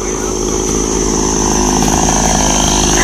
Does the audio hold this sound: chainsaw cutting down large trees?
yes